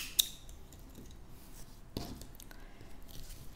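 Scissors snipping crochet yarn during bag making: one crisp, close snip near the start, followed by faint handling rustles and a soft thud in a quiet room.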